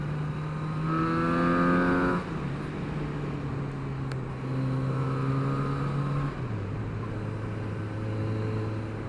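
A Kawasaki Z900RS motorcycle engine drones steadily while riding through tight bends, its pitch rising and falling with throttle and gear changes, loud and close with wind rush throughout.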